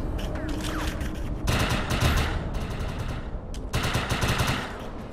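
Rapid bursts of automatic gunfire and explosions in the shooter game Defiance, loud and dense, coming in long sustained volleys with brief lulls between them.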